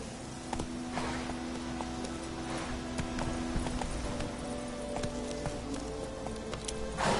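Roach, the horse in The Witcher 3 game on PlayStation 4, gallops with steady clip-clop hoofbeats running throughout, set against a continuous background ambience and faint tonal game sound.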